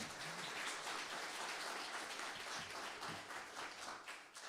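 An audience at a youth projects event applauds the Premier of the Eastern Cape, a dense, sustained wash of clapping from many hands that fades slightly toward the end.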